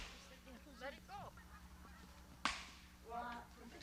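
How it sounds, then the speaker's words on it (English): Flying geese honk a few times at moderate distance, short nasal calls scattered across the clip, with a sharp snap partway through and a faint voice in the background. "Here come those flying geese."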